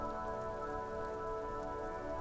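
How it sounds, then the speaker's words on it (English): Rain patters steadily on the roof of a woodshed in the video game Disco Elysium, a constant dense hiss of drops with a faint tonal hum beneath, unbroken throughout. "Rain falls onto the roof of a woodshed."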